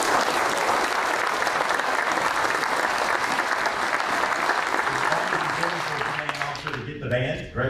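Audience at a Marine Corps Information Operations Center change of command ceremony applauding the band, a steady dense wash of clapping that holds loud for several seconds before thinning out, with a hint of voices near the end.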